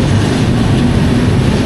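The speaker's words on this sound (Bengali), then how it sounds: "এই যে ট্রেন কিন্তু পিক আপ নিয়ে নিচ্ছে" A train pulling out of a station on the Kolkata to Brahmapur line, a steady loud rumble of wheels and carriage noise that fills the whole stretch as it gathers speed, with no voices.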